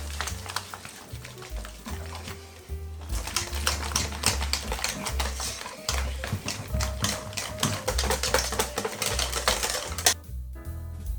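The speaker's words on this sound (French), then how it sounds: "on va pouvoir mélanger au fouet" Chestnut cake batter with eggs and butter beaten by hand with a whisk in a bowl, producing a fast, continuous rhythmic clicking and tapping over a low background layer, ending with a brief pause.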